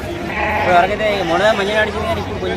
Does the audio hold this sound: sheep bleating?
yes